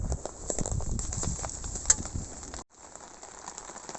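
Rain falls again on a poncho shelter rigged as an Army basher, with a steady patter close by and a small pause partway through, beside a reservoir in wild camping country.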